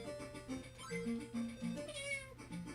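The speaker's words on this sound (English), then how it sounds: "that meow sound might, like, prevent it from going into the complete garbage territory" A series of short, tonal meows from a Sega Game Gear game repeats over a soft electronic background, like a cartoonish game cat.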